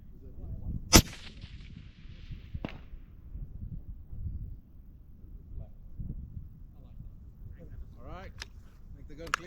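A single rifle shot from a cold bore at a 500-yard target cracks sharply near the start, with a fading echo and then a distant faint impact, followed by quiet outdoor background and low voices.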